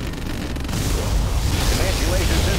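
The particle cannon fires in Command & Conquer Generals Zero Hour, a loud rumbling blast that swells after a brief lead-in and roars on as a broad, sustained boom.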